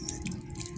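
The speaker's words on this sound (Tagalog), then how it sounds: "Hugas ka ng kamay." A tap runs steadily into a sink as hands are washed at a park cafe, a constant close splashing wash of water with light dripping texture and no talk over it.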